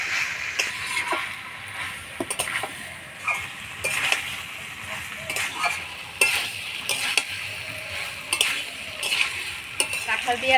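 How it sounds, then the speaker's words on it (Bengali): Jackfruit and potatoes with spices are stirred in a hot pan, a busy sizzle under repeated close clinks and scrapes of a spoon against the metal, steady throughout with no talking. "কাঁঠাল দিয়ে আর আলু দিয়ে ভালো করে মশলার সাথে নাড়াচাড়া করে নিলাম"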